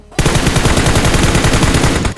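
A teammate's automatic rifle fires a sustained rapid burst in BGMI (PUBG Mobile), loud and close, the shots running together for about two seconds.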